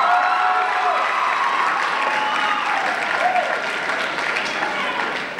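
A high-school Mr EBHS 2008 pageant audience applauds and cheers for a contestant, a dense, loud wash of clapping and shouts that holds steady and fades slightly at the end.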